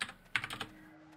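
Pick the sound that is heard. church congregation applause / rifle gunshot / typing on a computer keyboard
typing on a computer keyboard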